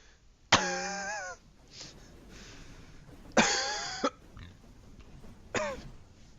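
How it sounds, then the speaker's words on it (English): Three short, harsh coughs rise out of a quiet background, each a single burst with a rough, throaty tail, spaced a couple of seconds apart. "What was a cough and a burp?"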